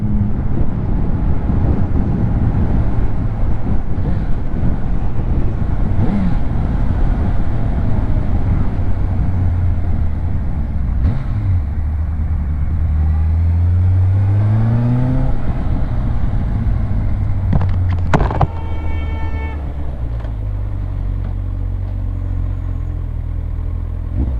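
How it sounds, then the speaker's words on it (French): An electric motorcycle rides along steadily with wind rumble, its motor whine rising and falling in pitch as it speeds up and slows, no engine roar. "moto électrique. C'est une électrique."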